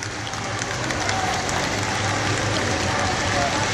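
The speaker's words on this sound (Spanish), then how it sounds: "comenzamos a escuchar ya los aplausos" Steady applause from a crowd outside St. Peter's Basilica awaiting Pope Francis's coffin, continuous and moderately loud throughout, with a low engine-like rumble underneath.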